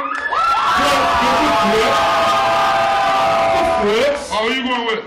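A crowd at a rap battle cheers and whoops loudly for a rapper, with shouting and yells rising and swelling throughout, several voices prominent near the microphone.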